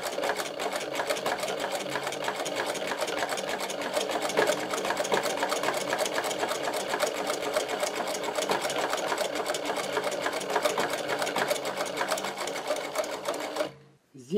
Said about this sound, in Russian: Машина шьет просто отлично на двигателе.